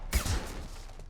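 Gunfire in the video game Mass Effect 2: a single loud, close blast with a heavy low thump, then a short rumbling tail that fades into a quiet background.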